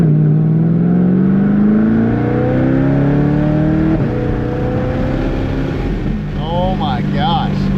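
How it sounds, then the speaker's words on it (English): A catless C8 Corvette with a Paragon titanium exhaust revs loudly and close, its engine tone rising and falling through long sweeps while someone talks over it. "Catless C8 Corvette with a Paragon titanium exhaust."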